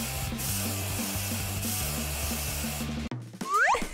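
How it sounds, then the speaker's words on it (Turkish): Spray paint hisses onto a cardboard roll, coating it black in a steady close aerosol spray, pausing briefly partway, then ending with a sudden stop followed by a couple of short rising squeaky sounds. "Sprey boyayla siyaha boyayalım."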